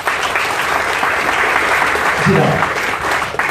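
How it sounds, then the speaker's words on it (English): A seminar audience applauds steadily and fairly loudly, a dense wash of many hands clapping throughout, while a voice speaks briefly over it near the end. "Big round of applause for yourselves"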